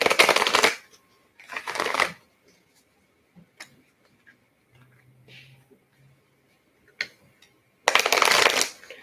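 Several bursts of cards being riffled and shuffled, loud and close, separated by quiet pauses with small handling clicks.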